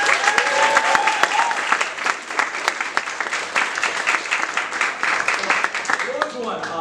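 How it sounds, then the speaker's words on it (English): Loud, sustained audience applause at a stand-up comedy show at Refreshers, dense clapping with some cheering and whoops, close and lively, while voices talk over the crowd. "give a fucking massive round of applause for the young man"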